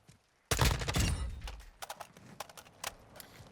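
M4 rifle fire with the classic Modern Warfare 2 sound in Warzone 2: a loud, dense burst of automatic shots at the start, followed by scattered single cracks and taps that fade out.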